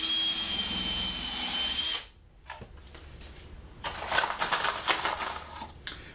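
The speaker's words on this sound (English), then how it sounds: "Now we're just going to secure it with a couple screws on each side for right now." A cordless drill drives number 8 full-thread stainless steel wood screws into a wooden barrel chair frame, with a steady whirring run that stops abruptly, then shorter bursts of drilling and a louder stretch toward the end, close and without talk.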